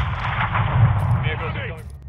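Artillery rounds and gunfire in the Modern Warfare II (2022) campaign, a dense rumbling barrage of explosions and shots with radio chatter voices mixed in briefly.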